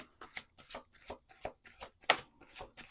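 Close riffle shuffle of a tarot deck, a quick series of papery flicks and slaps in an even rhythm, alone with no voices.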